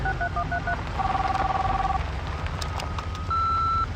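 Telephone keypad tones from the Sanitarium video game, a short string of dialing beeps followed by longer steady tones, heard clearly over a low rumbling background like an idling car.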